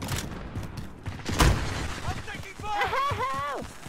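Gunfire in a Warzone match: a heavy burst near the middle, with scattered lesser shots around it and a voice speaking during and after the firing.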